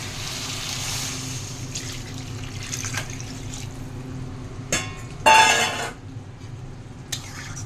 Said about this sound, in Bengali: ঝোলের জন্য জল দিচ্ছি